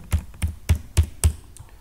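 Five crisp keystrokes tapped on a computer keyboard while entering a password for a pen drive lock, evenly spaced, close and alone with no talk.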